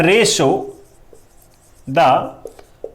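Someone writes a ratio on a classroom board, and the marker gives short squeaky strokes followed by small taps. A voice talks over parts of the writing.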